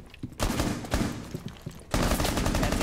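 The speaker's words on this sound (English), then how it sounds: "Shooting at me." Rainbow Six Siege gunfire crackles in close, loud bursts of rapid shots, with a brief lull before a heavier sustained volley at the end.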